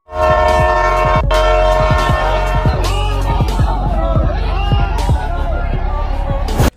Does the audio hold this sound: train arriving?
yes